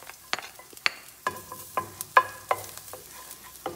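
Garlic sizzles in a small amount of cooking oil in a pan for chop suey, a soft steady fry punctuated by sharp clinks and scrapes of a utensil stirring at an uneven rhythm.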